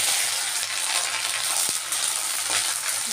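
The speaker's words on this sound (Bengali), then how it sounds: "এখানে এক মুঠ মতো আমার নারকেল করা আছে এটাকে আমি তেলের মধ্যে দিই" A handful of grated coconut sizzles steadily in hot oil beside dried red chillies, a continuous bright frying hiss with an occasional faint clink of a utensil.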